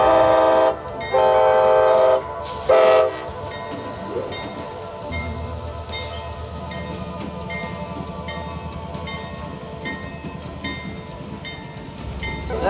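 A train rolls steadily along the rails with low rumbling clatter, after several loud, sustained horn blasts in the opening seconds.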